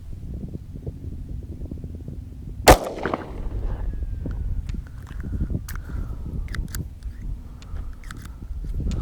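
A single sharp, loud shot from a Smith & Wesson 686 .357 Magnum revolver cracks out over low rumbling background noise, followed by scattered faint clicks and knocks.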